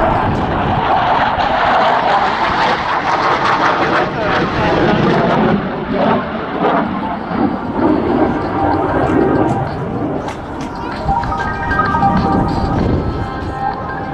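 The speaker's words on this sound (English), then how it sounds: "Here comes a roll under the turn, in which we can appreciate the high roll rate of the tornado" Tornado jet rolling low at an RAF Cosford air show, a loud continuous engine roar that swells and fades slightly, with a commentator speaking over it.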